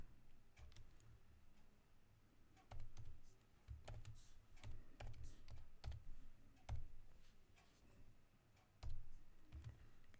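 Python code being typed on a computer keyboard: irregular bursts of quiet key clicks and taps, close but faint, with short pauses between clusters of keystrokes.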